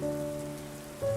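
Steady rain falls in a short, continuous stretch, an even wash of patter with a faint tonal hum underneath.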